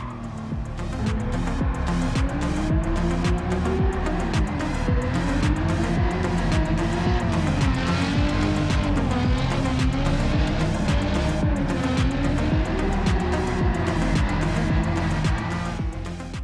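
A Gran Turismo 7 car engine, played with a steering wheel, revs hard and continuously, pitch rising and dipping as it drifts, with a steady loud roar throughout.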